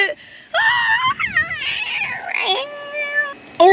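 A cat meows and yowls loudly in long, wavering, drawn-out cries, close up, with a short squeal near the end.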